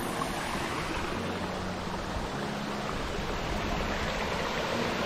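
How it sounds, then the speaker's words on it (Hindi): Rushing water of Bara Bakhara waterfall, heard from the top of the falls, forms a steady, loud broadband roar that continues without a break. "हम अभी वाटरफॉल के टॉप में हैं"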